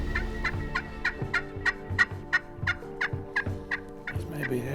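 A Rio Grande wild turkey gobbles in grass or trees, a run of rapid, rhythmic gobbling bursts at moderate distance, with a faint low drone underneath and no talking.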